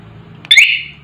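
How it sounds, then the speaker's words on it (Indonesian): A motorcycle alarm module fitted to a Yamaha Vixion lets out a loud, close electronic chirp that holds steady over a low engine-like hum. "berarti untuk modul alarm bekerja"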